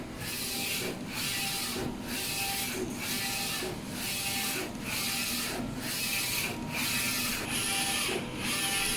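A Focus Nebula Forge 2F DTF printer runs a print job, its head carriage sweeping back and forth in a steady rhythm of broadband whooshes about once per second over a constant mechanical hum, close and fairly loud.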